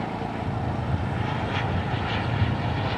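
Aircraft engines roaring steadily at a jet air show in Kentucky, a loud continuous drone with no pauses across the whole clip.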